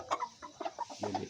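Aseel chickens and chicks give short, soft clucks in quick succession, close by and faint, at a farm in Amritsar.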